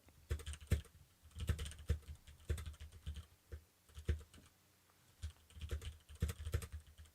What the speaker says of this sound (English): Hank, what are you typing so desperately? And so quickly